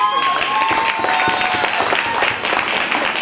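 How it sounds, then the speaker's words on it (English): An audience applauds competitors at a live fitness sports event, the Bay Games Grand Slam 2019, with steady clapping and crowd noise filling a short stretch while an announcer's voice carries over it. "Give you a round of applause to these three."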